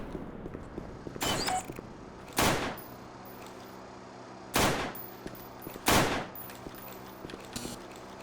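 Single gunshots at a shooting range in the video game Black Mesa, a Half-Life remake, four sharp loud reports spaced irregularly over quiet background tones, with no speech.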